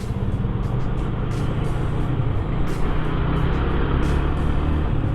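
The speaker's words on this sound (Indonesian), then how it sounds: "Ini banyak sekali mobil-mobil pada lewat." A busy road near Purwokerto carries a steady stream of passing cars, heard as a continuous, loud, low traffic rumble with no gaps between vehicles and no voices.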